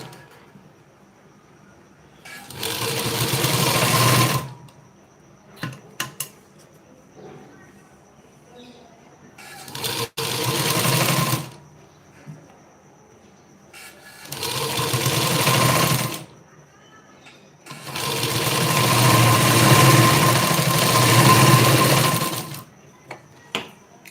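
Sewing machine stitching a blouse, running in four separate bursts of a few seconds each with quiet gaps between, the last run the longest, up close.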